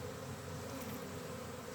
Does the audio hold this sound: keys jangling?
no